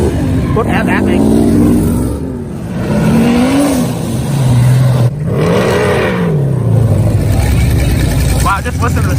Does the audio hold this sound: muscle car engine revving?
yes